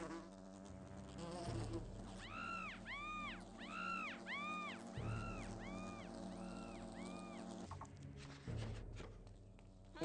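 Wasps in the game Fable Anniversary: a steady insect buzz with rising and falling whine that swoops in a repeating pattern, fairly close and continuous over a low background.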